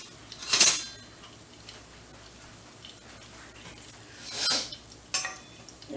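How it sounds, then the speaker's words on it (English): A spatula scraping and flipping cinnamon French toast in a pan, two short clinks of metal on the pan a few seconds apart with a faint third tap, otherwise quiet. "So, you get a spatula."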